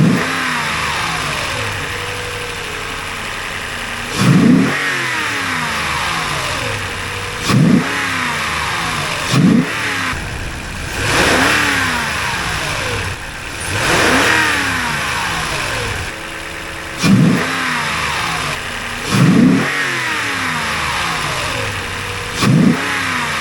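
A 2nd-gen Toyota Sequoia V8 with a $150 mod idles close by, then is revved several times toward 4,000 RPM, each blip rising sharply and falling back to idle.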